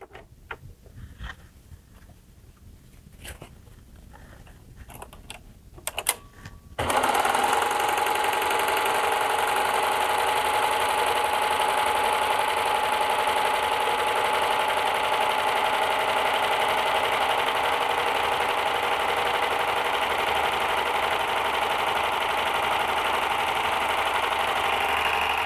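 A Baby Lock Accolade sewing machine stitches a narrow rolled hem, a steady rapid mechanical whir that starts abruptly after a few light handling clicks and then runs unbroken at close range.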